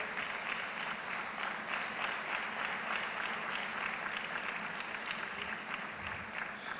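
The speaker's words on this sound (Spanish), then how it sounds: "Dale un fuerte aplauso a Dios." Sustained applause fills a church as the congregation claps together, a dense, steady wash of many hands at even volume with no pauses.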